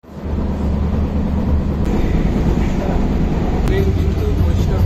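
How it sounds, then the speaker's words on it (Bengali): An AC local train on the Sealdah to Ranaghat line runs on after leaving Kalyani in the rain, a loud, continuous rumble and rattle heard from inside the carriage with no break. "তো কল্যাণীর থেকে ট্রেন বেরিয়ে গেল"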